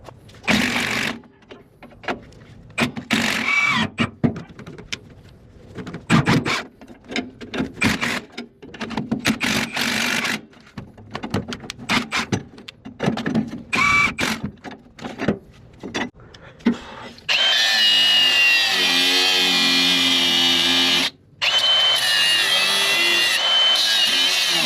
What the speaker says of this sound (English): We are going to take off the U-bolts and I'm just going to grind it.